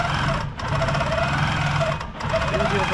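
Sewing machine quilting a shopping tote, running in fast, even stitching bursts with two brief pauses, loud and close, with no one talking.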